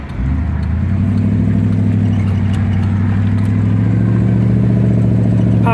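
A 1964 Mercury Comet convertible pulling away on the road in second gear, its engine rising from idle into a loud, steady low rumble heard close from inside the car, with no talk.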